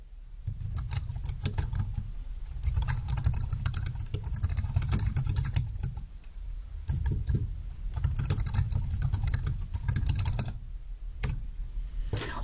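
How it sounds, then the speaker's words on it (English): Steady typing on a computer keyboard, a continuous patter of close, crisp key clicks with brief pauses, carrying on alone without any talk. "you can type in the text here."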